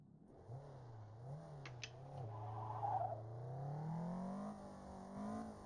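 An original Toyota AE86 engine, a stock car rather than a drift build, revs and swells under drifting, its tone rising and falling near and loud, with a brief high whine partway through and a steady drone toward the end.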